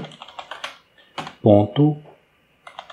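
Someone types "User Controller" on a computer keyboard, giving short bursts of key clicks split by pauses, with a voice speaking in the middle.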